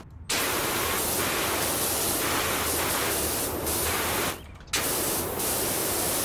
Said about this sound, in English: Oh, my friend, metal cleaner. Go to work. Clean that wheel.